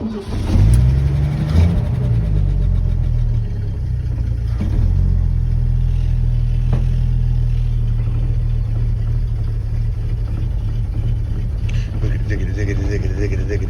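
A carbureted 1986 Ford bullnose pickup truck engine cranks, catches and settles into a steady, loud idle rumble close by, with a brief rev early on and a person talking under the running engine.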